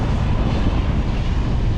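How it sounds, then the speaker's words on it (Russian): Strong wind buffets the microphone outdoors at Svir, a steady roaring rumble with no voices heard. "Страшная ветрюга."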